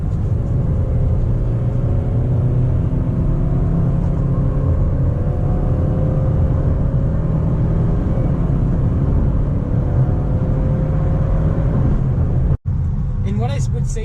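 2018 Subaru Crosstrek accelerating toward highway speed, heard from inside the cabin as a steady engine and road rumble with rising drone, under continuous talk.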